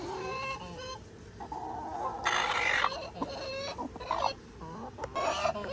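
A broody hen clucks and grumbles in a backyard flock, with repeated close, loud clucks and a few sharper squawks rising and falling over several seconds, and no talk over them.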